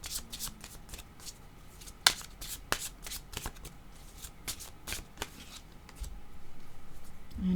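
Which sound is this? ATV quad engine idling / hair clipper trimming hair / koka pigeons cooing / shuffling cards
shuffling cards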